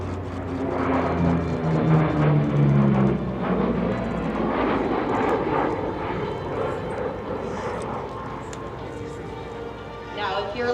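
The Flying Bulls' P-38 Lightning, with twin Allison V-1710 engines, flies past at the Oshkosh AirVenture airshow as a droning propeller roar that peaks early and then fades into a rushing wash. A narrator talks over it throughout.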